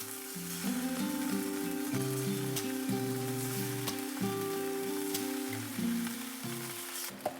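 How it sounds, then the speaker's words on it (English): Tofu searing in a drizzle of avocado oil in a non-stick pan over medium heat, a steady close sizzle and crackle running throughout with no talk, over faint background music. "Sear the tofu for 2 to 3 minutes on each side."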